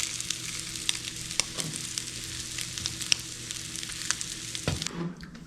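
Crab cakes fry in a pan with a steady, close crackling sizzle, scattered sharper pops, and brief clatter near the end as the sizzle drops away.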